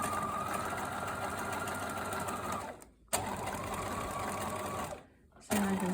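Sewing machine stitching around a garment pocket, a close, steady mechanical whirr in two long runs separated by short pauses, the second burst starting again sharply.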